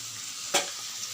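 Spiny gourd (kakrol) fries in oil, a soft, even sizzle broken by one sharp scraping stir near the middle.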